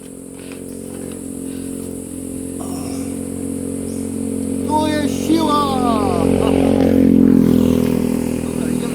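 A small motorcycle engine runs steadily and rises in revs toward the end, on a bamboo plot in the Philippines, with people talking briefly over it.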